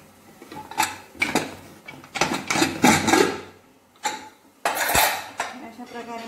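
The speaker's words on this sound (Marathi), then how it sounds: "4 शिट्ट्या होऊन याला थंड होऊ दिलं मी कुकरला। आता हे उघडू आपण।" A cooled pressure cooker opened after steaming idli, a close series of loud metallic clanks, scrapes and rattles as the lid and inner plates are handled, irregular bursts with short gaps, no talking.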